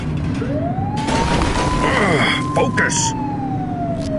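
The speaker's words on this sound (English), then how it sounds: "Get behind them and flip the siren to make them pull over." A police siren wails in The Precinct, a loud rising and falling tone over heavy engine and street noise, with a voice shouting briefly.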